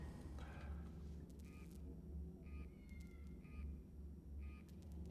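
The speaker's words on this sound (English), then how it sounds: "Here's the cat." A cat meows a few times in the Alien: Isolation video game, short faint calls over a low, steady ambient rumble, with no talking.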